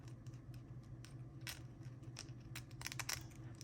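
Quiet crisp snipping and crunching as scissors cut grip tape material for a Smith & Wesson SD40VE pistol, a few scattered cuts close by with a soft low hum underneath.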